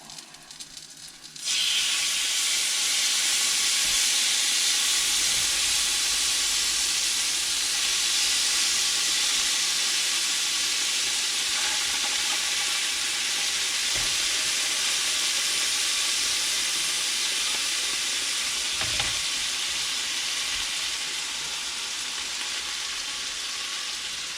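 Prawns frying in a pan aboard a narrowboat, a sudden loud hiss as they hit the hot fat, then a sustained close sizzle that holds steady throughout with no talk.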